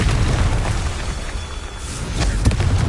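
A Confringo blasting spell in a video game bursts with a loud, booming explosion, a thick rumbling roar that swells near the end with a sharper pop.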